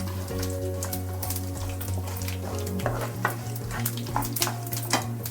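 Sesame seeds sizzling in a pan with a steady close fry and scattered light pops, a low hum running underneath.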